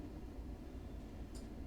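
A DB BR 101 electric locomotive coasts along the Rheine-Ruhr main line in Train Sim World 2, giving a short, steady low rumble of wheels and running gear with no talk.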